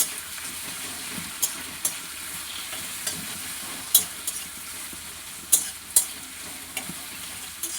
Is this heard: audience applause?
no